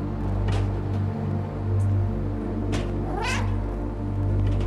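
A cat in the video game Stray meows twice, a short cry early and a longer rising meow near the end, close and clear over a steady low hum of background ambience.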